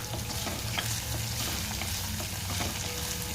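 Chopped chili and carrots fry and get stirred in a pan for rawa upma, a dense, steady sizzle with soft scraping movements throughout.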